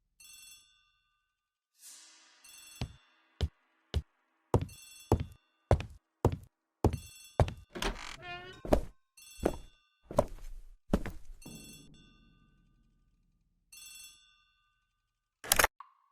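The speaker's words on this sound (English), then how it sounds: "The telephone in the hall is ringing." An old-style telephone bell rings in a hallway, a long series of sharp repeated bursts with short gaps, fairly close and clear, then a pause and one final ring.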